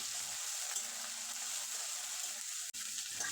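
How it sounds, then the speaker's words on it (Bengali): Chopped capsicum frying with fish roe in a pan gives a steady close sizzle, with a low tone running through the middle and a brief dropout near the end. "আবারও কিছুক্ষণ ভেজে নেব"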